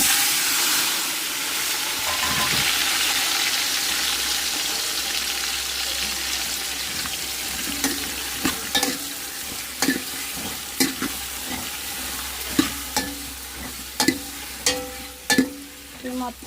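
Steady sizzling of fenugreek seeds and other ingredients frying in hot oil, joined later by a run of sharp clinks and scrapes of a utensil stirring the pan.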